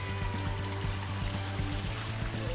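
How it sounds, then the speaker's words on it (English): Water flushes out of an RV's sewer line into a septic tank, a steady rushing pour with a low rumbling hum, continuous and fairly close, with no talking. "You can probably hear the water flushing out."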